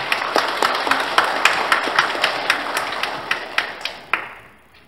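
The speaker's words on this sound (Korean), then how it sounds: "박수로 환영해 주십시오." A church congregation at a Catholic Sunday Mass in Seoul applauds to welcome visiting staff from a Catholic broadcaster and newspaper: dense, steady clapping from many hands with a few sharper claps standing out, tapering off to quiet at the end.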